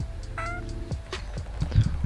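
A pet cat gives a short, clear meow with a rising tone in a home kitchen, close and moderately loud, followed by faint low shuffling noises.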